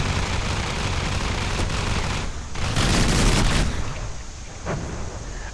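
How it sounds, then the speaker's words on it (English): Burst gun firing in the naval combat game From the Depths, loud rapid cannon rounds rattling off in a continuous fusillade with heavier booming bursts midway, close and dense with no talk. "a ridiculous burst gun"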